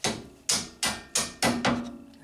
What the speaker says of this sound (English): now we'll just give this thing a little tap with the hammer.